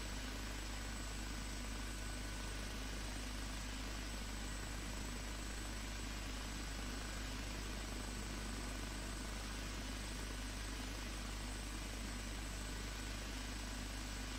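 An OH-58D helicopter in a flight simulator game, its rotor and engine roaring as a dense, constant drone at full volume throughout, with no talk.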